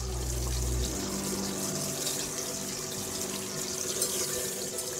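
Cauliflower pieces frying in hot oil, a continuous loud sizzling hiss that begins with a low rumble and then holds steady, with no voices.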